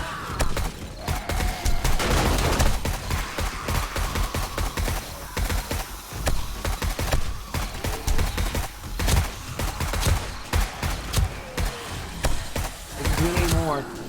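Assault rifle fire in 7 Days to Die during a zombie horde defense, rapid repeated shots rattling near and loud throughout, with voices talking over the shooting.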